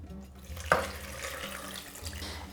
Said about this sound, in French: Et j'ajoute encore un bol d'eau.